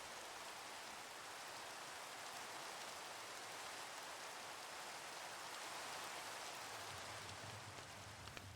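Steady rain falls in a video game at nightfall, a soft, even hiss with no breaks and no voices.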